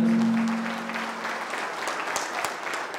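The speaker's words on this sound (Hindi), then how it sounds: "एक बार जोरदार तालियां सर के लिए" A burst of enthusiastic applause from an audience at a ceremony in Ghazipur, steady clapping that gradually thins out over a few seconds.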